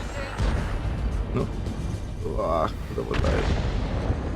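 A heavy tank cannon blast in a video game booms out over rumbling battle noise, with more deep explosive thuds following, loud and dense.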